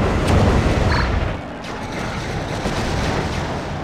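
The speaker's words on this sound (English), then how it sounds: "There was just a huge collision!" In the wrestling car-combat game WWE Crush Hour, a loud crashing boom of vehicles colliding and rockets blasting opens the clip, then settles into a steady, dense rumble of engines and explosions.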